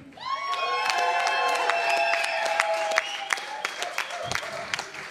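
Loud concert audience cheering and clapping, high whoops and shouts soaring over continuous applause that stays full throughout, with sharp individual claps punctuating the crowd noise.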